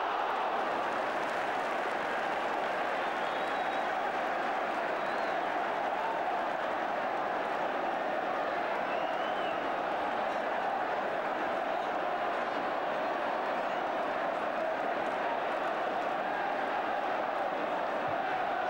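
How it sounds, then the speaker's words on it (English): A large football stadium crowd roars in a steady, continuous wash of massed voices and cheering, loud and unbroken, with a commentator speaking over it. "And the roar from the crowd had nothing to do with this match."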